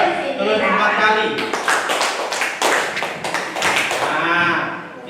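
A group clapping a counted hand-clap pattern, with irregular clusters of sharp claps, some quick runs and pauses, mixed with voices talking throughout.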